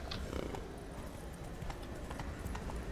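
A horse gallops in The Witcher 3, its hooves pounding in a steady, rapid clip-clop rhythm close by, under a dense bed of outdoor ambience and wind-like noise.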